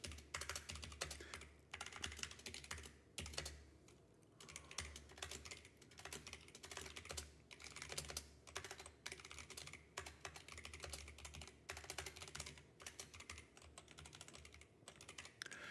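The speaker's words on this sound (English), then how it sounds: "We're going to end up just typing this." Fast, steady typing on a computer keyboard, a dense run of close key clicks with short pauses, heard alone without speech.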